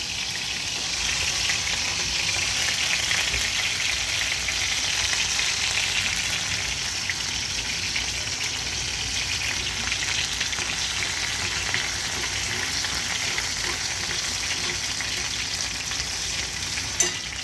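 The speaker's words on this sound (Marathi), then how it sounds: "हे बघा, हे लसूण टाकलं आता तेलामध्ये" Garlic frying in hot oil, a steady, close, full sizzle that continues without a break for the whole stretch, with no voices.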